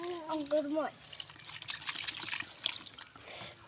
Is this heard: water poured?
yes